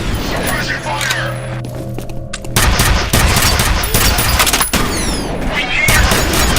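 Rapid bursts of automatic suppressing gunfire crackle in the shooter F.E.A.R., loud and close, with sharp cracks and booms layered over shouted voices.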